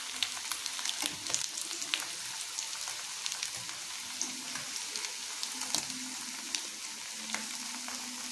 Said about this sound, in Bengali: সুন্দর করে লাল করে ভেজে নিয়েছি।